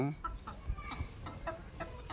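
Young hens and cockerels cluck in short repeated bursts, several birds close by with a steady farmyard murmur underneath.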